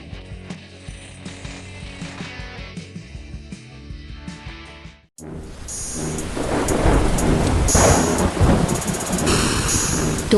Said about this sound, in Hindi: तूफानी रात के अंधेरे में अचानक एक जोरदार धमाका गूंजता है